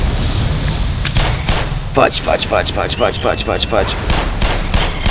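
Rapid bursts of gunfire crackle in the Black Mesa video game, a run of sharp repeated shots at close range, with a brief spoken exclamation over them.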